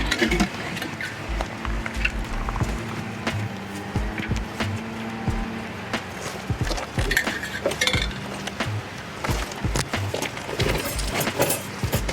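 Metal pipes clink and clatter against each other as they are lined up during a Caretaker 5 port to A&A 5 port conversion, with irregular sharp knocks and scrapes close by.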